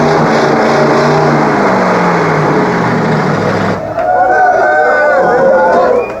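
A car engine with sand inside, its oil drained and water hose cut, revved hard to 5000 RPM: a loud, sustained roar that shifts pitch partway through, with someone talking over it.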